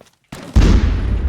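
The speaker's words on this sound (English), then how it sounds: "If we lob a grenade in like that." A grenade lobbed and exploding in the prison game Jail Birds: after a short silence, a sudden loud boom swells into a sustained rumbling blast that fills the rest of the moment.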